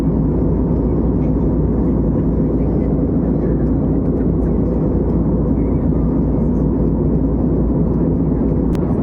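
Steady, loud broadband roar of an airplane cabin in flight before landing on a Guwahati to Chennai route, dense and continuous with a low rumble throughout.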